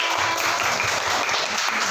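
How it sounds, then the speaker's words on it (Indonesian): Classroom applause as students clap for a classmate after a science lesson, a dense, continuous patter of many hands at close range, steady and fairly loud for the whole stretch with no talk on top. "Tepuk tangan untuk Yodel."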